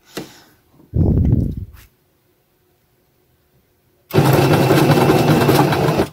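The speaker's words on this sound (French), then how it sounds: "Comme ça, maintenant, je vais coudre. Pareil, valeur pied de biche. Hop, je vais venir coudre." A sewing machine stitching the seam of a welt pocket, running in two loud bursts separated by a pause of near silence, the second run longer and steady.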